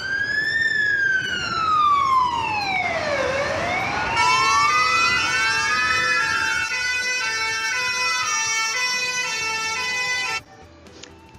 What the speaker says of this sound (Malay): Siren yang dikeluarkan oleh ambulan dan juga bomba memberikan isyarat kecemasan.